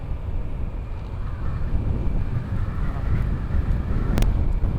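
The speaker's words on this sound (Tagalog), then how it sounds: "Grabe, rinig nyo yan guys. Lakas ng hangin." Strong wind buffets a microphone during a motorcycle ride, a loud, rough low rumble that gusts continuously, with a brief sharp crackle near the end.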